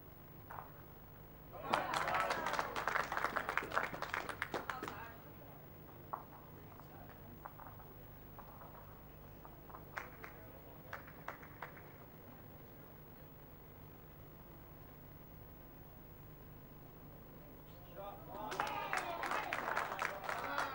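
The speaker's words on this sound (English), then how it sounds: "You'll hear the applause in the background." Two spells of clapping from a crowd at an adjacent indoor bowls mat, some distance away, one near the start and another at the end, with quieter murmuring between.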